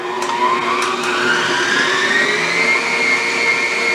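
Electric mixer beating icebox sugar cookie dough, a loud continuous motor whine that slowly rises in pitch, with a few brief clicks near the start.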